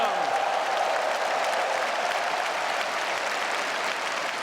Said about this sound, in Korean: 우리 오케스트라 한번 뜨거운 박수로 격려해 주시기를 주님의 이름으로 축원합니다